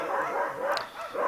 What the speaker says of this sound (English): that's my dog barking at the dog next door